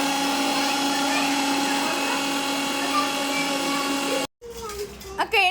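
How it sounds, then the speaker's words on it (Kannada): A mixer grinder blends ginger and garlic into paste with a loud, steady motor whine for about four seconds, then cuts off abruptly and voices talk nearby. "ಇಲ್ಲಿ ಶುಂಠಿ ಮತ್ತು ಬೆಳ್ಳುಳ್ಳಿಗೆ ನಾನು ಪೇಸ್ಟ್ ಮಾಡ್ಕೊಳ್ಳೋದಕ್ಕೆ ಮಿಕ್ಸಿಗೆ ಹಾಕ್ಕೊಳ್ತಾ ಇದ್ದೀನಿ."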